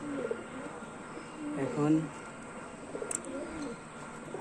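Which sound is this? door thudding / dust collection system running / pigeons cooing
pigeons cooing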